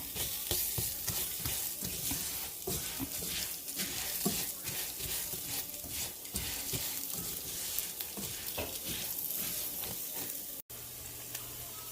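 Rice frying in a pan for Mexican rice, a dense continuous sizzle with repeated scraping strokes of a utensil stirring it, close and steady throughout.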